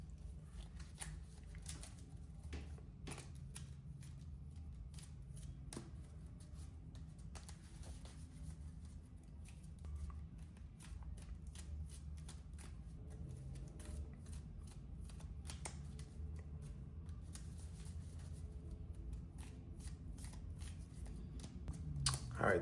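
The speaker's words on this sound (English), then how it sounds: "All right, the deck is shuffled." A Yu-Gi-Oh card deck in sleeves being shuffled by hand, quiet repeated riffling and flicking bursts in an irregular rhythm, close and soft, with no talk.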